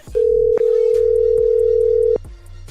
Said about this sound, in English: She didn't notice her phone ring again.